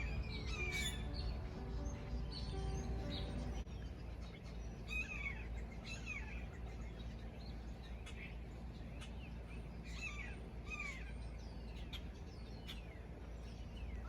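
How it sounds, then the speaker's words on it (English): Several birds chirp and squawk in a spring backyard, bright repeated calls scattered throughout at moderate distance over a steady low outdoor hum, with a denser burst of calls early on. "Do you hear that, y'all? The sounds of spring. The birds are happy."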